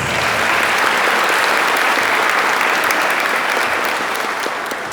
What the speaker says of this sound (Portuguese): Também nós os acolhemos com um caloroso salve de palmas.